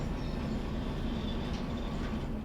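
A locomotive hauling a long string of twenty cars in the train game Derail Valley rumbles steadily, a continuous dense rolling roar with faint higher squeals, no voices.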